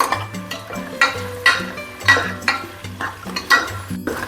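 Small onions and curry leaves sauté in a pan for a mutton kuzhambu, giving a steady sizzle broken by regular bursts of stirring, close and fairly loud, over a low humming tonal background.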